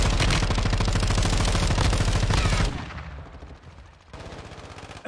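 Automatic gunfire in a Call of Duty Warzone 2.0 match, a loud dense burst of rapid shots for almost three seconds, then quieter scattered distant shots and clatter.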